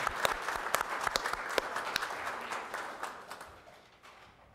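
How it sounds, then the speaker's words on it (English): Applause at a town council meeting after newly elected officials are congratulated, a modest group of scattered individual claps, fairly faint and distant, tapering off over a few seconds. "Let's give them a round of applause"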